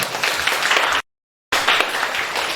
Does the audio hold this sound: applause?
yes